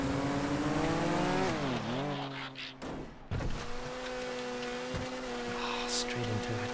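Car drifting in GTA FiveM during a racing event, engine tone rising and falling with tire squeal through the slide, a brief drop before the motor picks back up, fairly loud and continuous.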